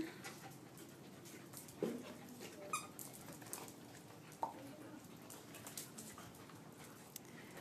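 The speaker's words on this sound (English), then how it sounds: "Right now we have dogs in group play." Shelter dogs in group play in a kennel yard, faint panting and scuffling with occasional soft yelps and whimpers, heard from a short distance at low level.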